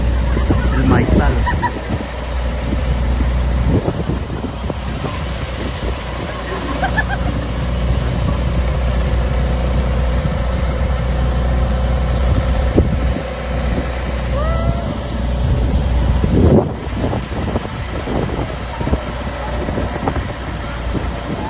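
Engine drone from a vehicle pulling a wagon ride through an apple orchard and corn maze, a steady low rumble throughout, with people talking over it and a few knocks and bumps.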